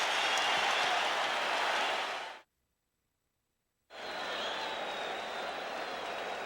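Loud, dense arena crowd roar during a 1987 NBA Finals game between the Lakers and Celtics at the Boston Garden, a broad wall of cheering that cuts off abruptly into silence for over a second, then resumes just as strong.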